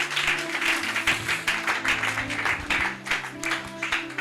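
A church congregation claps and applauds in praise of the Lord, steady loud applause from many hands filling the room for several seconds.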